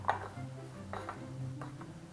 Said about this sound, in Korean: 그리고 대접에 부어주세요 그리고 잘 섞어줍니다